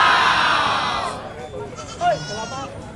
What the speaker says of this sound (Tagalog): Grabe, puno na yung mga truck nila ng kambing